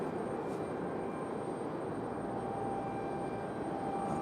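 An American Airlines jet from Chicago is heard at Raleigh-Durham airport as a steady, distant engine rumble and hiss, holding even throughout, with no talk.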